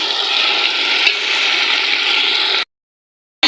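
Chicken masala with added water being stirred in a handi for capsicum chicken makes a steady, close, wet churning and bubbling that stops abruptly near the end, then briefly resumes.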